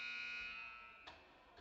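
Buzzer ending a period at a hockey game, a sustained electronic tone that fades out at a distance, followed by a couple of brief knocks.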